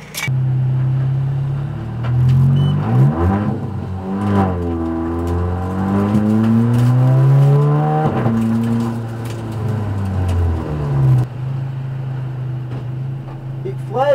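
A Golf race car's new engine revs hard and holds high, its pitch rising and falling, with a brief dip before climbing again. Voices talk underneath.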